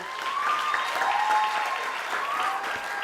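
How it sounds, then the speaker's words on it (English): Steady applause from a TEDx event audience at a Nigerian university, dense and continuous for about three seconds, with a few faint whistles or cheers riding over the clapping. "Please, if you really enjoyed it, clap for him."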